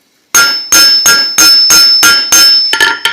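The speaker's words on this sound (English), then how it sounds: "Planishing just means you're hammering it when it's black heat and you're really not moving the metal" Hammer planishing a steel leaf at black heat on an anvil, about eight loud, ringing metallic blows in a steady rhythm, close up, with the last few coming quicker.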